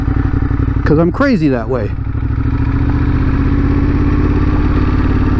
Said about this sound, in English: I felt like I needed to get the Ducati out and air it out a little bit